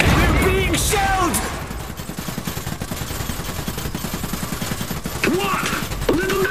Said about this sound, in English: Stronghold, under fire! We're being shelled!